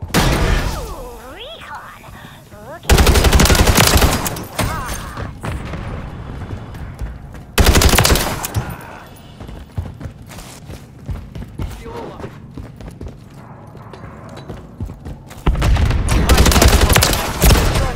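Video game gunfire in Call of Duty Modern Warfare 3 on the Scrapyard map, with heavy bursts of rapid automatic fire coming in loud waves between quieter stretches of distant shots and battle noise.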